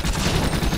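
Gunshots in the Western-themed video game Secret Ponchos Most Wanted Edition, a dense, loud rattle of rapid shots with no break.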